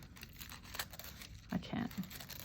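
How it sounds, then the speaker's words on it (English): Paper torn by hand for a junk journal page, a few short ripping bursts close up near the end, over soft room tone and light handling rustle. "Can I tear it now?"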